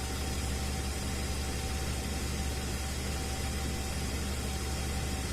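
A 2010 Audi Q5 engine idles steadily just after a fuel injector reinstall, a constant broadband hum and hiss with a faint steady tone, running alone at moderate level without speech.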